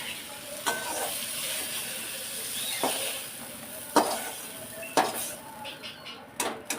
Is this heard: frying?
yes